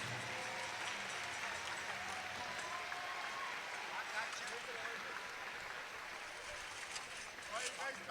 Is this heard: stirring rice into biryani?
no